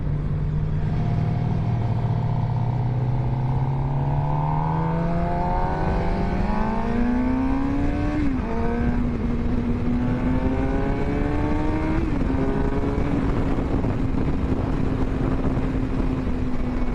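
A 2023 Suzuki GSX-R750 motorcycle engine revs while riding, pitch climbing steadily through gears with brief shift dips, a continuous loud drone under rushing wind, and no talk.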